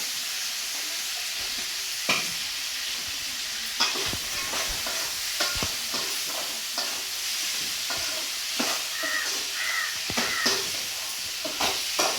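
Spoon scrapes and clatters repeatedly against a pan of green peanuts over a steady hiss of frying, with irregular stirring strokes close by.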